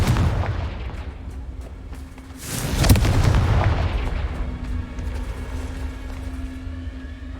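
A Confringo fire spell goes off in Hogwarts Legacy as one sharp, loud explosive boom that trails into a long rumbling decay over low background hum.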